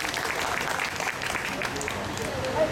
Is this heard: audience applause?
yes